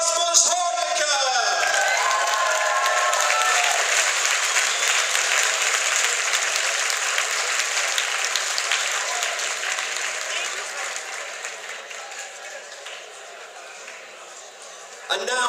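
A convention audience applauds a voice actor with loud, sustained clapping from a large crowd, beginning right after an announcer speaks and gradually thinning out over about fifteen seconds.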